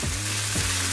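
Tofu coated in a light layer of cornstarch, a barbecue preparation, sautéing in a pan to get crispy. A steady close sizzle and frying crackle runs alone the whole second, with a slight stir-like bump midway.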